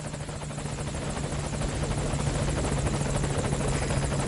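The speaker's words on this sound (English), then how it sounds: "And our helicopter is back at LZ." A helicopter arriving at a landing zone in Metal Gear Solid: Ground Zeroes, its rotor thumping in a steady loud drone with continuous blade chop and engine hum throughout.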